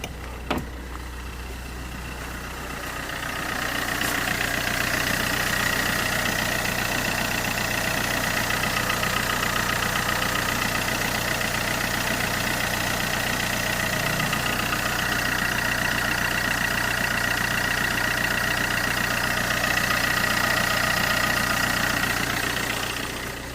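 A Vauxhall Corsa D 1.3 CDTi diesel engine idles steadily, heard close up from the engine bay, with an even mid-frequency hum and a faint tonal whine running continuously; the car has an injector fault history.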